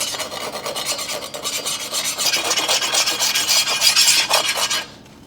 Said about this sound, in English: Directly out of the quench, I like to grind a little bit just so I can see if I got the Hamon that I wanted.